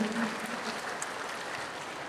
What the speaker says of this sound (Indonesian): Mana tepuk tangannya untuk Bapak Presiden ini?